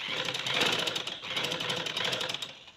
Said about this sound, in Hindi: और आपने किनारी की ही सिलाई लगानी है।